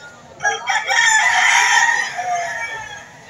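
A rooster lets out a single loud, drawn-out crow at a Lipa City poultry market, close and clear over a low background murmur.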